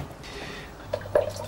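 Rotting old seeds are poured into a container, giving a short wet squishy plop and a couple of soft drips close by, brief and quiet with no talk.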